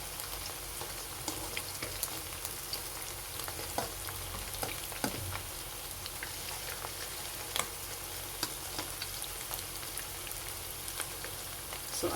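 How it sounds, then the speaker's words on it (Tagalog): Pork bola bola meatballs sizzle steadily in a pan, a soft continuous crackle dotted with small pops, faint and even throughout with no talk. "So, ipiprito lang po natin ito saglit, guys, para mag-brown lang yung outer part."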